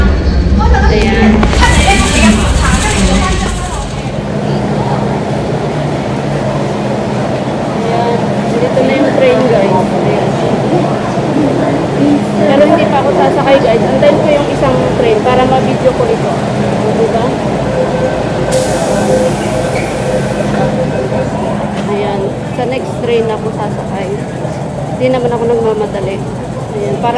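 Train pulling out of a station in Hong Kong on the way toward Wan Chai, a steady low rumble and rolling drone lasting throughout, with a brief high tone partway and a person talking over it.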